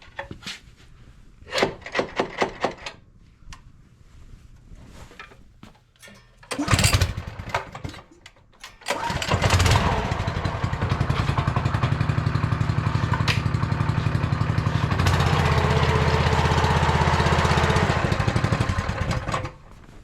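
Honda engine on a Permagreen Magnum ride-on spreader starts in gear: clicks and fiddling, a brief crank burst, then it catches and runs as a loud steady close-up drone to the end.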